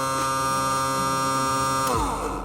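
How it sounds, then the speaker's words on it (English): A bilge pump in a jon boat running with a steady electric whine and hum, then winding down with a falling pitch near the end. "as you can hear the bilge pump kick on down there."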